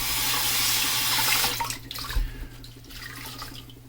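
Tap water runs loudly into a sink for washing up, a steady close hiss that cuts off midway, leaving softer drips and handling sounds.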